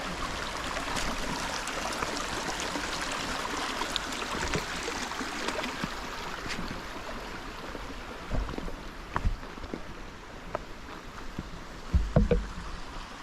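Water rushes steadily at a stream crossing on a hiking trail, a constant wash with scattered footsteps and knocks on stones growing busier toward the end.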